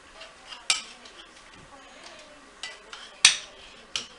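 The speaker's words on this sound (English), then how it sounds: "I'll kind of work it like this and smash it and move it around while I'm getting going so that it breaks up" Sausage being broken up and smashed in a frying pan, with a utensil scraping and clacking against the pan in sharp, irregular knocks over a faint background sizzle.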